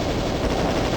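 Rapid plasma gun fire in Doom 2, a dense continuous burst of loud blasts with no pauses, filling the whole moment without any voice.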